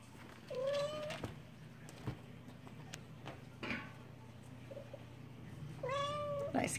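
A Bengal mother cat calls her kittens to dinner with several distinct meows, two of them longer and clearer, close by over a low steady background hum with faint clicks.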